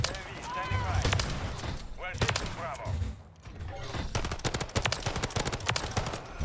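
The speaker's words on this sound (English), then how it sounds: "Starting off with Lockwood 680. This is the only pump action we have here with Modern Warfare 3" Lockwood 680 pump-action shotgun fired in Modern Warfare 3, with sharp, loud blasts at irregular intervals amid other gunfire, all under a voice talking.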